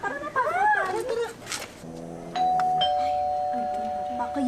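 A voice talks briefly, then a two-tone doorbell chimes clearly and its ring lingers, sustained and fairly loud, fading slowly at the end.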